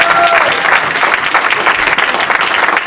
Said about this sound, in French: Tu peux acclamer pour ta propre foi.